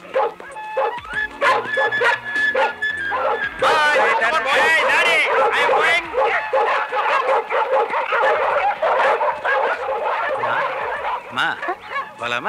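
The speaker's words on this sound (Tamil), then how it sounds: "புது நாய் இழுக்குது, யாருக்கு கட்டுப்பட மாட்டேங்குது" A new dog barks and yips while pulling against its leash, sharp repeated barks mixed with whimpers, close and loud throughout, with excited people talking and shouting over the commotion.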